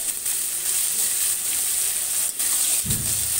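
Drumsticks (sajna) frying in dark, reused oil in a pan, a steady close sizzle and hiss with a short clattering stir near the end; no one talks.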